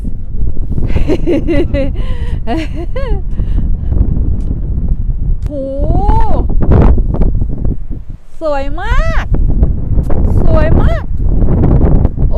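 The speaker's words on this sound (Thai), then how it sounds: "ลมแรงมากด้วย" Steady rushing wind roars across the microphone throughout on the Kokonoe Yume Otsuribashi suspension footbridge in Japan, with people chatting and exclaiming over it.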